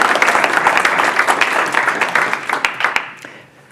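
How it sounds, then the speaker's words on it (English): A conference audience at Kamailio World 2026 gives a warm round of applause, loud and dense clapping that tapers off near the end. "let's give some applause to him"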